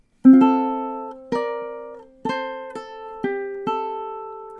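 Ukulele playing measure 7 of The Parting Glass, a Celtic tune, as six plucked chords and notes, each struck cleanly and left to ring and decay before the next, close and alone without any voice.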